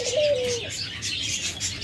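A single dove call, brief and fairly clear, rises over steady background noise in a bird-keeping setting where doves lay eggs in feeding bowls; the call is short and not repeated within the moment.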